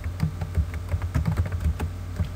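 Quick, uneven keystrokes clatter on a computer keyboard as words are typed onto a PowerPoint 2013 slide, a close, steady run of taps with no voices.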